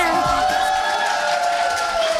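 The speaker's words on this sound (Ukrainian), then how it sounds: "Оплески наші подружні!" Crowd at a wedding dance contest applauding and cheering the dancers, loud continuous clapping and whoops with voices calling over a bright musical backdrop.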